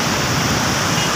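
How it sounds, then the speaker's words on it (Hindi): Floodwater rushing through Taunsa Barrage, a loud, continuous broadband roar of surging water filling the whole moment with no pauses. "ये बिल्कुल आप पानी की आवाज़ सुन सकते हैं"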